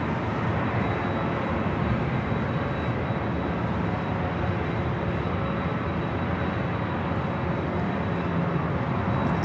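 An eight-year-old Airbus A321 jet at Los Angeles LAX airport, heard as a steady, broad engine roar that holds constant throughout, with no talking.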